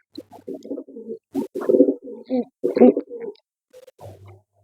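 Pigeons at a bird sale coo in a string of low, throaty, rolling calls, several close bursts with short gaps between them and no talking.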